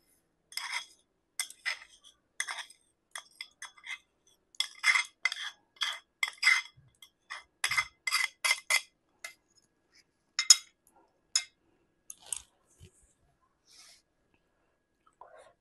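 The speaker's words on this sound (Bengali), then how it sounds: "এবার একে একে সব মশলাগুলি মিশিয়ে দেব।" Spices are mixed one by one into flour and oil for cabbage paratha dough, giving short, faint, irregular clinks and scrapes of a spoon against a bowl with quiet pauses between.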